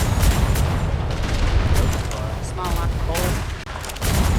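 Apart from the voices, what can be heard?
ship cannons firing in a naval roleplay video game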